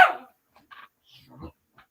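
A dog gives one sharp bark at the start, followed by a few faint yips and whimpers spread out over quiet moments indoors.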